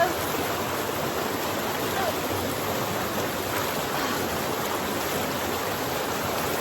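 A river rushes beside a pool in the Jamaican countryside, a steady, close, even hiss of flowing water that fills the whole stretch without pause.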